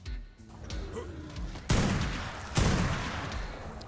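Gunfire from shooting creatures in the video game Ark Survival Evolved, a steady wash of game noise with two sharp, loud bursts of shots, one near the middle and one just after.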